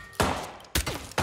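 Video-game gunfire in Hitman: three loud, sharp shots spaced across about a second, each bursting out and ringing briefly before the next.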